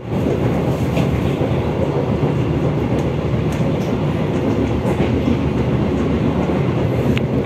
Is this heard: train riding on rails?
yes